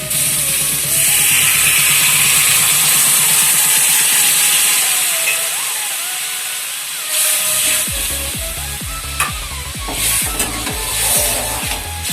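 Water poured into a hot pan with a whole green chili for a Bengali fish and greens dish, a loud steady hissing sizzle that softens and turns into bubbling with light clinks.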